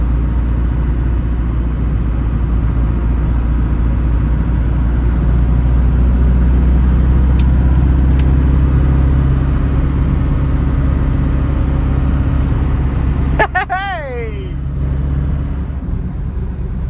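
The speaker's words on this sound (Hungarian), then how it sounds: "figyelem az autónak a hangját, a rezdüléseit, a viselkedését." A 1996 Ford Transit van with about 528,000 kilometres on it, engine humming steadily while driving, with a constant low road rumble from inside the cab and a short whistling sweep near the end.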